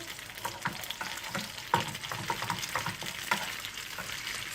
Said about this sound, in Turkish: Birazcık salçamız kızarsın.